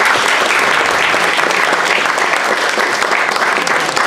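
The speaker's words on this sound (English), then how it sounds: "I ask you to join me in welcoming our good friend and Hoosac Tunnel expert, Jerry Kelly." Steady, loud applause from an audience gathered for a talk about the Hoosac Tunnel in Rowe, Massachusetts, greeting the guest speaker: dense clapping throughout, with no voices over it.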